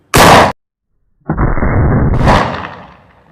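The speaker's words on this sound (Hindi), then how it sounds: "जो गैस पैदा होगी वो गैस इसमें धमाका करेगी" A homemade gas cannon, a firecracker rigged to scare off wild animals, goes off up close: one sharp loud bang, then after a pause a second, longer roaring blast that fades out.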